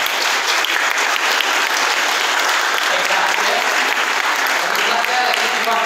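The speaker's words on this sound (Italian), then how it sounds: "Quindi un applauso alla giuria." Sustained, dense applause from an audience at a poetry contest held at Castello di Acaya, clapping for the jury, loud and steady throughout with no pause.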